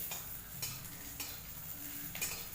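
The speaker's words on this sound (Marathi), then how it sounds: "आता मी कांदा भाजायला घेतलाय आहे तेलाची धार टाकून कांदा चांगला भाजून घ्यायचा" Onion roasting in oil in a pan, a faint, steady sizzle with a few soft scrapes of a spatula at intervals, quiet and close.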